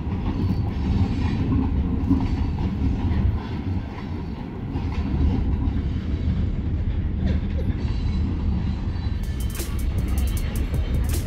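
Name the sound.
train passing by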